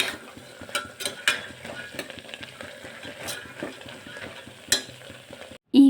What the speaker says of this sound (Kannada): 2ರಿಂದ 3 ನಿಮಿಷ ಚೆನ್ನಾಗಿ ಫ್ರೈ ಮಾಡ್ಕೊಳ್ಳೋಣ.